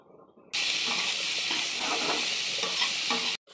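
Vegetables with green chilli and peas frying in ghee for fried rice, a loud steady sizzle and hiss that starts abruptly, runs unbroken for about three seconds with faint stirring, then cuts off.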